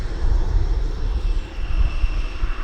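An aircraft taxiing at East Midlands Airport toward the UPS hub, a loud, steady engine roar with a deep rumble and a faint high whine, close by and continuous.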